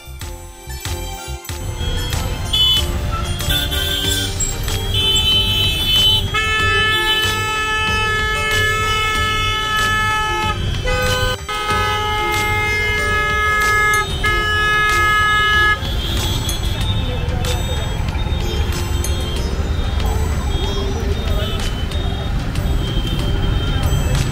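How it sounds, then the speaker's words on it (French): Loud, dense traffic noise in a jam near the Taj Mahal in India, with car and truck horns blaring repeatedly and overlapping, sustained honking over rumbling engines close by. "Ils arrêtent pas de klaxonner"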